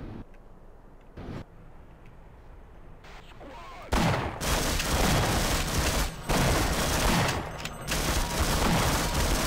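Gunfire in the video game Half-Life, a quiet stretch with a couple of isolated shots, then dense, loud bursts of rapid shooting and booms packed back to back.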